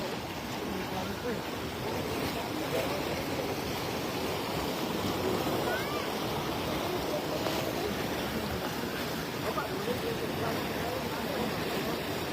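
A strong floodwater current rushes down from the mountains in Davao, making a steady, loud, broadband roar of churning water with wind noise that stays constant throughout.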